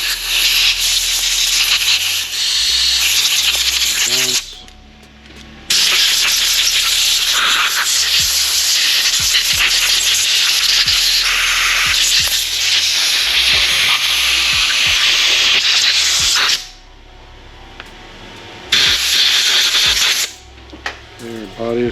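Loud bursts of compressed air hissing in long blasts through the carburetor passages of a Yamaha 70HP outboard, separated by short pauses, close to the microphone.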